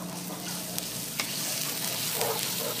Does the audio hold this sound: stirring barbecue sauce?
yes